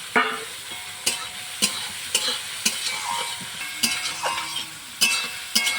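Rhythmic scraping and clacking of a spatula stirring fried rice with peas in a large wok, about once a second, over a soft background sizzle.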